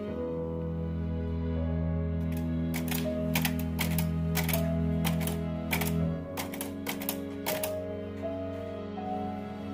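Typewriter keys strike in irregular bursts as the proclamation text is typed out, with a carriage bell or return near the end, all over a steady low hum and no talk.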